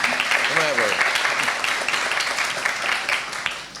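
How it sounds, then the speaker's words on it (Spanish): Audience applause at a foundation talk on democracy and human rights in Cuba, a steady wash of clapping from a full room, with a voice speaking over it at the start. "Pueden aplaudir, pueden aplaudir."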